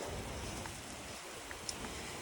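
Heavy rain falls around a campsite during a thunderstorm, a steady soft hiss of drops with occasional sharper taps on a nearby surface, continuous and without any voices.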